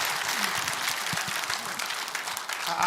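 An audience at a church lecture event breaks into steady, dense clapping to welcome the next speaker, filling the whole stretch evenly with no voices standing out.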